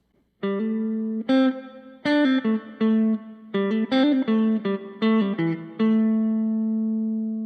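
Electric guitar plays a beginner lead exercise of plucked notes at a moderate pace, with slurred hammer-ons and pull-offs, ending on a ringing sustained note.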